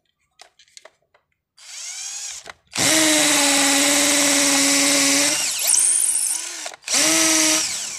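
Cordless drill from a two-battery kit, set to hammer mode with power 25 and high speed, revving loud and close in several bursts, with a few clicks first and a long steady whine in the middle.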